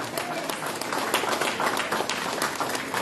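A church congregation claps steadily and densely throughout, a sustained wash of applause from many hands with faint voices mixed in.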